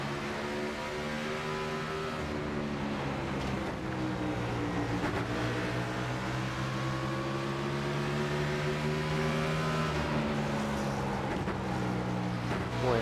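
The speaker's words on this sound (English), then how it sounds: "You can hear the car hitting the racetrack, seeing the sparks flying, just like the real thing" Race car engine droning in the iRacing video game at the half-mile Bristol Motor Speedway, a steady layered tone with rising and falling pitch sweeps as the car laps, fairly faint and free of talk.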